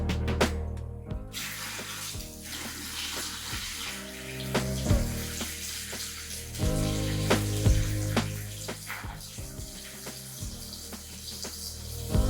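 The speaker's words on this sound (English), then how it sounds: "First bucket of water." A bucket of water pours into an indoor turtle tank, a sustained splashing gush with uneven surges and burbling, interrupted by a few sharp knocks and clunks of handling.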